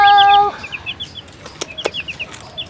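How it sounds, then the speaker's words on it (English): Colorful chickens cluck close by in a quick scatter of short, sharp calls, preceded by a brief sustained tonal cry. "So beautiful and colorful chicken."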